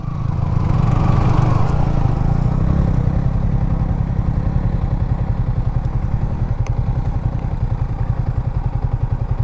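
Motorcycle engine labouring up a muddy hill track in the rainy season, a loud close throaty rumble that revs then settles into a rapid chugging pulse, with no talk over it.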